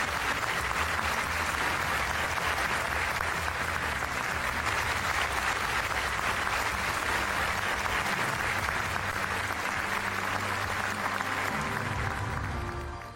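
Sustained, dense applause from a large audience at the closing ceremony of an international film festival in Pyongyang, steady and loud for about thirteen seconds and fading slightly at the very end.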